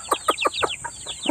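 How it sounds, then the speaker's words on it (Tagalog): Gamefowl chicks bred for fighting stock, Boston and Hatch Grey blue-leg crosses, cheep and cluck close by in a rapid run of about seven high, bright chirps, loud and alone with no talk. "ito mga sisiyo na ito ay ito po yung breeding natin na pangpanabong"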